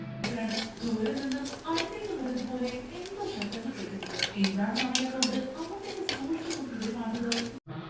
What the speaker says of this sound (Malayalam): ഞാൻ മുളക് പൊടിയും അതുപോലെ തന്നെ മല്ലിപ്പൊടിയും കൂടെ ചേർത്ത് കേട്ടോ നന്നായിട്ടൊന്ന് വഴറ്റിയെടുത്തു